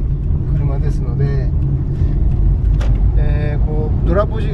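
Inside a Subaru Forester cruising in fifth gear on asphalt, a low, steady engine and road hum fills the quiet cabin while someone talks over it.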